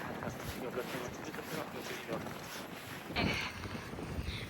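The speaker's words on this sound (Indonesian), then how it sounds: "Anginnya udah mulai kenceng banget. Di sini udah kerasa." Strong wind buffeting a microphone outdoors in Japan, a steady rough roar that swells and gusts briefly louder near the end, with a voice faintly audible underneath.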